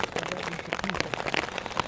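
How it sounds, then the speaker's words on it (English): Rain and hail patter steadily onto a tarp outdoors at Yellowstone, a dense, crackling hiss of small impacts with scattered sharper hits throughout. "it just started raining and hailing, so we've got out our tarp"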